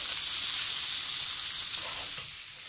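Bacon lardons, shallot and onion sizzle and crackle in a hot pan while being stirred, a dense, steady frying hiss that drops slightly in level near the end, with no talking.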